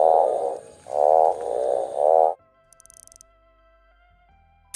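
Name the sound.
frog croaking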